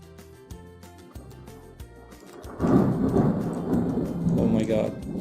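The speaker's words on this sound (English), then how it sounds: "Can you hear that thunder?" Thunder rumbles in from a low, droning background, swelling into a loud rolling boom that keeps growling through the second half, with rain hiss underneath.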